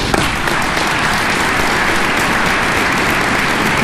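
Audience applause during a DEF CON security conference talk, a steady close wash of clapping throughout with no speech.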